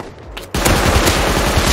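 After a brief near-silent moment, a Python revolver opens fire in the survival video game Rust: loud, close, rapid shots repeating without pause until the end.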